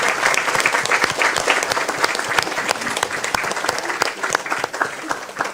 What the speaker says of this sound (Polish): więc brawa też dla nich i Bogu